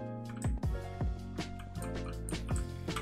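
Water sloshing and dripping in Minecraft, a series of soft splashy drips and watery blips repeating every half second or so over steady game music and ambience.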